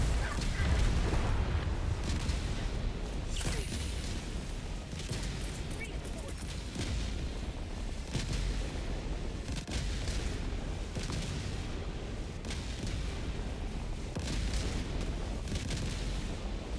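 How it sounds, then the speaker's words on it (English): Enemy artillery shells burst in Helldivers 2, a steady barrage of booming explosions and rumbling impacts that continues for the whole stretch, dense and loud, with voices talking over the noise. "Warning, you are in range of enemy artillery."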